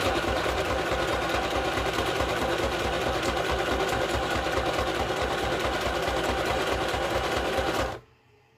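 A sewing machine runs a zigzag stitch on a small sewn piece, a steady close whirring drone that holds without a break for about eight seconds and then stops abruptly. No one speaks.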